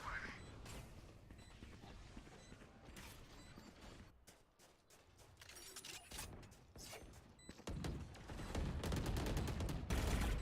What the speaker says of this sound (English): A lot of wall bangs are coming through.